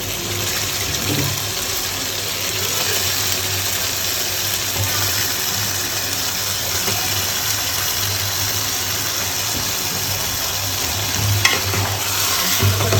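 Meat sizzles loudly in a large pot of frying spices for a big Eid curry, a continuous close crackling hiss with occasional stirring clatter and a low steady hum underneath.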